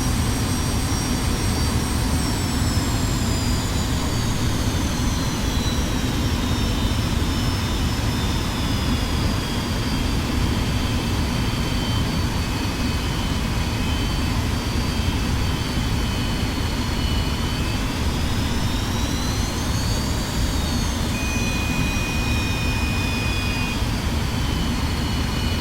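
An F-86F Sabre jet engine roars steadily in the DCS World flight simulator, a constant loud turbine drone with a slowly shifting high whine and no talking.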